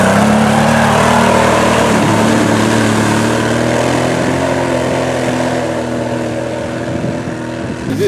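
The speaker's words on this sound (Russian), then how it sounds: "Здесь Opel едет по этой канаве." A car engine, an Opel, revs loud and steady, close by, as it drives through a muddy ditch during a mud race, a sustained droning roar with shifting pitch throughout.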